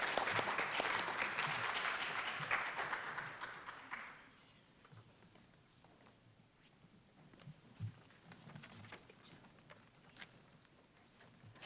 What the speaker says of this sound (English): Please join me in a round of applause again for our 6th grade Ready Writing participants.